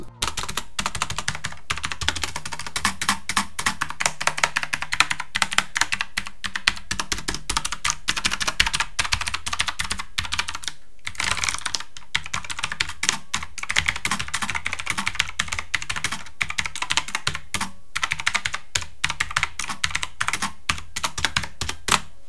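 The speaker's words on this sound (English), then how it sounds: "this is a gaming keyboard" Rapid, continuous clacking of keys on a mechanical gaming keyboard with an aluminium top, close and crisp, with brief pauses between bursts of typing.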